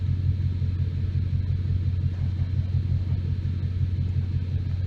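A 2011–2019 Ford Mustang engine idles with a steady, deep, even rumble, loud and constant throughout, with no revving.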